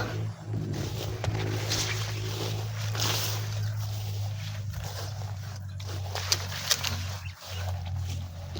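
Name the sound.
motor engines heard nearby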